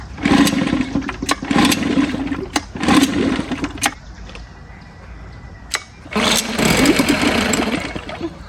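Old 1950s Scott Atwater outboard motor fed straight to its fuel pump, sputtering in rough bursts that catch and die several times, then a longer stretch of uneven running, close and loud.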